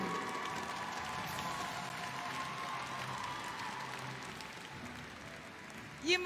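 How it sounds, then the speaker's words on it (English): A crowd applauds at an M5 World Championship esports event, a dense, steady wash of clapping that holds evenly for several seconds at moderate level, with a brief louder bump at the very end. "let's give a big round of applause"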